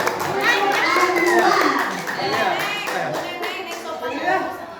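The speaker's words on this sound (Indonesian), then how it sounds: "Tepuk tangan, berikan tepuk tangan." Children applauding during a lesson at a special-needs school, scattered light claps mixed into lively overlapping kid chatter and an adult voice, fairly close and continuous.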